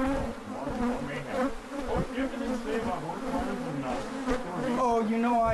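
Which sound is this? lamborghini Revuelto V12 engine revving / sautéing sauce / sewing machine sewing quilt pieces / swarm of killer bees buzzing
swarm of killer bees buzzing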